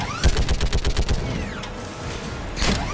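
An anti-aircraft gun in a sci-fi combat setting fires a rapid burst of about a dozen heavy, evenly spaced thumping shots, followed by mechanical whirring and clanking as it turns, then a final louder report.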